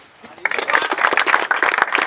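A group of people bursts into dense, rapid clapping after a short quiet lead-in, a close, busy patter of many hands that keeps going steadily to the end.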